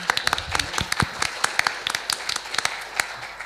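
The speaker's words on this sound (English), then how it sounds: "So, big applause." Conference audience clapping after a paper presentation, with a smallish group producing crisp, uneven claps that carry on steadily throughout at close range.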